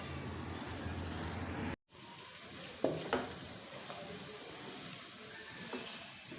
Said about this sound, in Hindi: चंद सेकंड्स के लिए इनको घी में फ्राई कर लेंगे